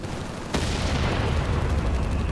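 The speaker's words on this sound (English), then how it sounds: "Stummel shoots it again, not doing too much damage." A Stummel armoured vehicle firing in Company of Heroes 3, one sharp loud shot followed by a sustained rumbling battle noise.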